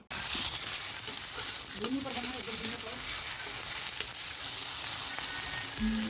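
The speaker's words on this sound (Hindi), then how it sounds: "कढ़ाई में तेल डाल के मैं तड़का लगा रही हूँ" Steady loud sizzling of onions frying in hot oil in a wok, with brief stirring scrapes in the pan.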